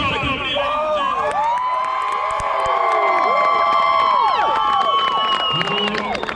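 A graduation parade crowd cheering and whooping loudly, with shouts, whistles and scattered clapping layered together in a continuous, close roar.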